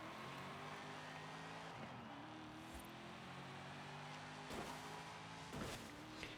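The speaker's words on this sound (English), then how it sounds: "670 horsepower in our Ford truck." A Ford F100 barn-find truck with 670 horsepower runs in Forza Horizon 5 on a volcano rally stage, its engine droning steadily and shifting pitch with a few sharp transient bursts as it drives.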